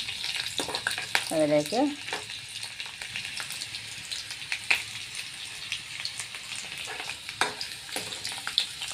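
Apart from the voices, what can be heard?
stirring mango pickle ingredients frying in a pan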